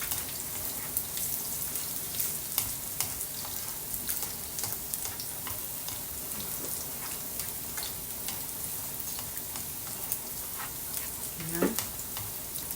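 Garlic fries to golden brown in oil for arroz caldo, giving a dense, steady crackling sizzle with scattered pops throughout, plus a brief faint voice-like sound near the end.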